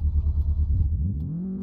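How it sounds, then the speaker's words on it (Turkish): A BMW M4 engine in Euro Truck Simulator 2 idles with a steady low pulsing rumble, then revs up smoothly into a rising drone, close and fairly loud. "Şöyle bir marşımıza basalım, bir horultusunu dinleyin."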